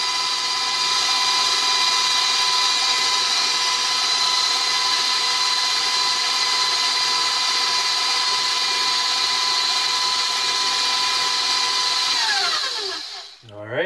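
An electric mixer whirs through yellow cake batter in a bowl, a steady high-pitched motor whine held for many seconds that winds down and stops at the end, loud and close.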